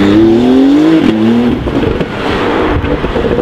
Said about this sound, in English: With QuickSilver system, the sound is continuously blended through smaller bore and larger bore pipes to give a really linear note